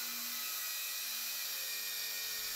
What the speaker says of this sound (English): Then use the straight grinder again.